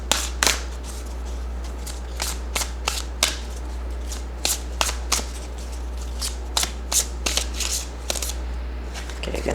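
Tarot cards being shuffled during a full moon reading: repeated crisp riffling bursts in an irregular rhythm, close and fairly loud over a steady low hum, with no talking.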